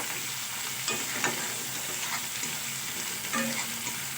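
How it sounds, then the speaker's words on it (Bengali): Fried potatoes being stirred with spices in an oily pan: a steady close sizzle with scattered scrapes and clinks of the spoon against the pan, no voices. "প্রথমে দিয়ে দেবো আলুটা একটু মশলার সঙ্গে মিশিয়ে নেব।"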